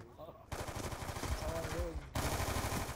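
Gunfire in Call of Duty Black Ops 2, a dense rapid automatic burst rattling continuously over game noise, loud and close, with a voice faintly underneath.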